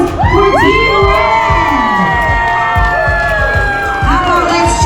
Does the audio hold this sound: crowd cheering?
yes